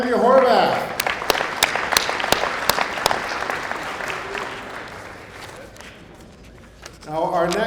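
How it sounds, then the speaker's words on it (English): A breakfast event crowd during Grey Cup Week applauds the mayor: a broad wash of clapping with a few sharp individual claps, fading out over several seconds, with a voice speaking at the start and end. "A round of applause again for our Mayor, Andrea Horvath"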